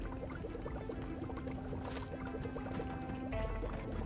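Water pours steadily from a watering can onto a radish plant in Project Zomboid, a continuous close gurgling trickle over a constant low game hum, with a brief shift in tone near the end.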